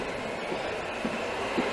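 Rumbling interior of a metro subway train or station, a steady broadband roar with faint rattling clicks, continuous and fairly loud with no talking.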